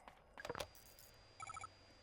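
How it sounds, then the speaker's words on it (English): A telephone rings in the survival horror video game Crow Country: one short burst of a bright electronic trill, clear and close, following an earlier clatter of game sounds. "Ooh, phone."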